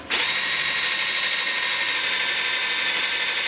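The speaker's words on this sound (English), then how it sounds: "Why does my drill keep loosening up" A power drill whines loudly and steadily as it bores through a thick acrylic aquarium panel, a continuous high-pitched grinding with no pauses.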